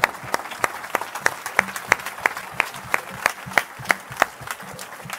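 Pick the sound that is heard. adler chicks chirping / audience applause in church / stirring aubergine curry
audience applause in church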